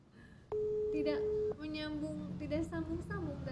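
A telephone busy tone sounds on an unconnected call, one long steady beep followed by a series of shorter repeated beeps, loud and close, with someone speaking over the later part.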